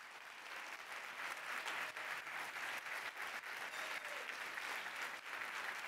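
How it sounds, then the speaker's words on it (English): Applause for servers and housekeepers at a fireside luncheon, a steady wash of clapping from a large seated crowd that holds for several seconds at a moderate distance. "Give them applause."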